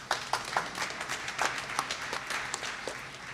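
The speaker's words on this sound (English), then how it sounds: "Synchronized clapping." Audience at a photography awards ceremony clapping in rough unison, with distinct claps in a steady rhythm over a broader wash of applause, moderately loud and without speech.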